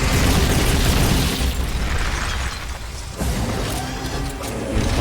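Loud rocket launcher blasts in a Metal Gear Solid game, with rumbling explosions and crashing debris rolling continuously for several seconds, then a fresh burst near the end.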